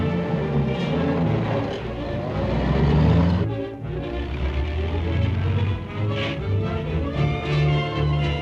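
A 1930s car engine drives steadily along, a loud continuous rumble with a brief dip partway through.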